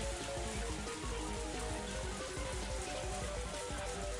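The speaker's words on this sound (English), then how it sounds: "The rain is just too loud." Steady rain from the visual novel Higurashi pours without pause, a dense, loud wash of drops pattering on surfaces, heard alone.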